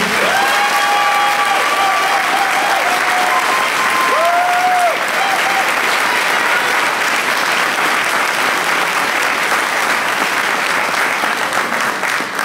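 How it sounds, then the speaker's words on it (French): A large audience at a French-language speech by Kémi Séba breaks into loud, sustained applause that fills the whole stretch, with a few whistles near the start. "que je vous demande d'applaudir fortement, s'il vous plaît"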